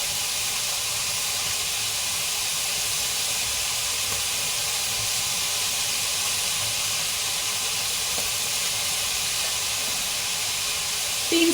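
Spring onion sizzling in a chicken chow mein stir-fry, a steady, even hiss of frying that holds close and constant throughout with no voices.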